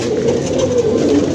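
Pigeons cooing in soft, repeated low murmurs at a loft of show pigeons on a hot afternoon, the calls continuous and fairly close with no talking.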